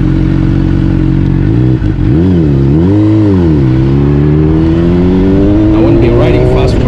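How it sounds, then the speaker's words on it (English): A Honda CBR600RR 600cc sport motorcycle engine is heard close up while riding, revving up and down in wavering swells before climbing steadily in pitch as it accelerates, loud and continuous. "First time I'm riding a super sports, a 600cc."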